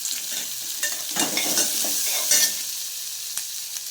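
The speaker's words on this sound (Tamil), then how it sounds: "பச்சை மிளகாய், வெங்காயம் நல்லா போட்டு வதங்கணும். தக்காளியை போட்டுக்கணும்." Green chilli, onion and tomato sautéing in a pan, with a bright steady sizzle broken by scraping stirs of a spatula, close and fairly loud with no talking.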